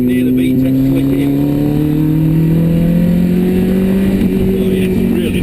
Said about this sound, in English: It comes on, you can hear the VTEC click in.